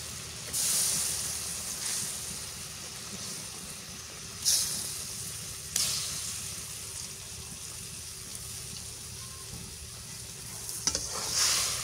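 Fish, a large aair catfish, fries in hot oil with a loud, continuous hissing sizzle that swells as it goes in, with a few sharp spatters and clinks along the way, no talking.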